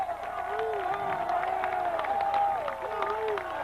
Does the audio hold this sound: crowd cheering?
yes